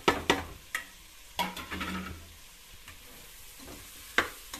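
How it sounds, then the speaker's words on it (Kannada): Biryani masala being fried and stirred in a pan after chilli and coriander powder go in, with a soft sizzle under sharp scraping knocks of a spoon against the vessel, several bursts spread through the clip. "ಸಾಫ್ಟ್ ಆಗಬೇಕು, ಅಲ್ಲಿವರೆಗೂ ಫ್ರೈ ಮಾಡ್ಕೊಳ್ಳಿ. ಚಿಲ್ಲಿ ಪೌಡರ್ ಮತ್ತೆ ಧನಿಯಾ ಪೌಡರ್ ಹಾಕ್ತಿದ್ದೀನಿ"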